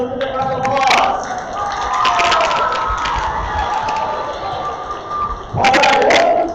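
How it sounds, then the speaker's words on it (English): Loud crowd in a school gym cheering and shouting at a pep rally, a steady roar with bursts of louder yelling at the start and near the end, voices of excited kids mixed throughout. "Let's give them a round of applause"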